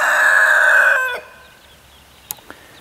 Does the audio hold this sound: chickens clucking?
yes